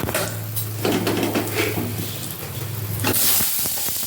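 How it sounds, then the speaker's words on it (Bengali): Potatoes frying in a prepared spice paste in a pan, a steady hiss and sizzle with scattered metal scrapes and clinks of a utensil against the pot, close and fairly loud, with a brief louder burst near the end. "এর মধ্যে আলুগুলোকে দিয়ে দিয়ে ভেজে নেব লাল করে"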